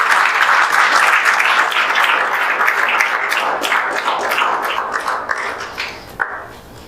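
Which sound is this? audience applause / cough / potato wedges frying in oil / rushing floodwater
audience applause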